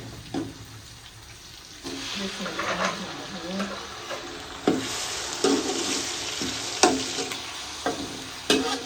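Onion frying in a pan with tomato, ginger and garlic, a continuous sizzle broken by repeated scraping stirs and sharp utensil knocks, close and fairly loud.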